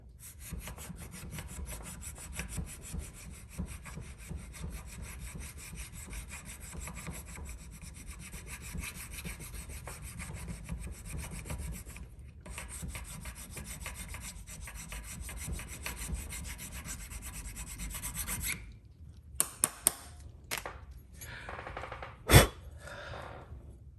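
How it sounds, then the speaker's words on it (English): Hand file rasping along a knife blade being smoothed and polished, a steady continuous scraping rhythm up close for most of the stretch, then a pause and a few sharp clicks and taps near the end. "a little at a time taking a file and smoothing it out"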